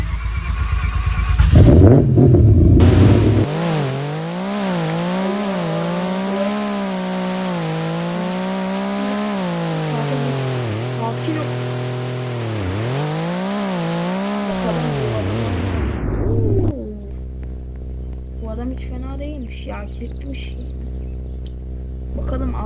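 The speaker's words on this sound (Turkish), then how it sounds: "Neyse en iyi arabamla gidiyorum." A video game car revs and accelerates hard for about fifteen seconds, its loud, rising and falling engine whine close and continuous, before cutting to quieter steady game audio.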